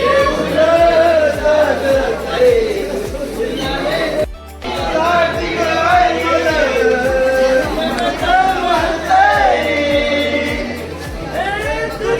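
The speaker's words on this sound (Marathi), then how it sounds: "गर्दी पण खूप होती" Large crowd of devotees at Ekvira temple, a dense hubbub of overlapping voices and chatter that runs loud and steady throughout, with one brief near-silent drop partway through.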